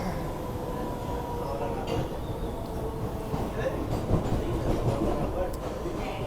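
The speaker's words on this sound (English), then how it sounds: "It's the slow train today." A subway train on the line through Kendall/MIT in Cambridge runs with a steady low rumble and rail clatter. The sound is continuous and fairly loud, with faint scattered clicks and background noise.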